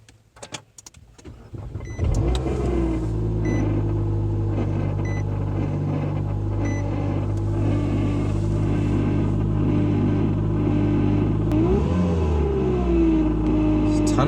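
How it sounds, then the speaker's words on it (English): A Kia Rio engine after a cold start, turning over and settling into a loud, steady idle hum with a constant drone, a brief rev near the end, and someone talking over it. "This car sounds like crap when you turn the engine on. So it's a cold start."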